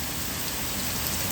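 Steady rain falls on a city street with water running along it, a dense, even hiss that stays loud and constant with no voices.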